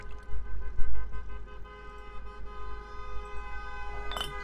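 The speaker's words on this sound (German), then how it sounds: "Hier ist wieder ein Gehupe, das gibt's ja gar nicht." A car horn honks in the video game Cooking Simulator, sustained tonal honking from outside heard steadily behind kitchen noise, with a sharper clatter near the end.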